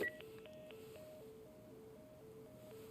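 A telephone on a dead line beeps through a steady run of dialing tones in The Last of Us, quiet and alone in a faint room hush.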